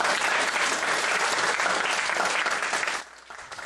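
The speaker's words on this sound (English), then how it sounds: "And the audience will be consumed with rapturous applause." Dense applause from a theatre audience at a magic show, loud and steady for three seconds before abruptly thinning to scattered claps.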